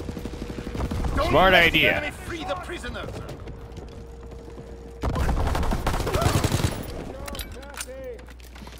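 Gunfire in Call of Duty: WWII, rapid automatic bursts near and loud in two stretches, with someone talking over parts of it.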